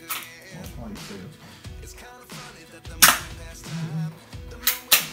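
An Academy Colt 25 airsoft BB pistol fires a few sharp, close pops spread across the clip, with people talking around the shots.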